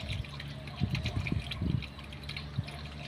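Water is poured from high up into a golden apple snail tank, a continuous splashing trickle with bubbly gurgles rising and falling, steady and close.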